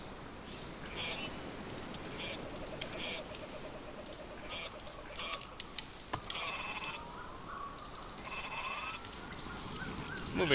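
Sheep bleating in the strategy game Northgard, short soft bleats scattered among steady game clicks, ambient background sound and a faint talking voice.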